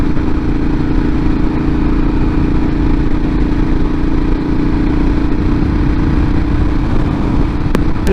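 A motorcycle engine drones steadily while being ridden, a loud, even mid-range hum with wind rush and no clear rev changes, plus a sharp click near the end.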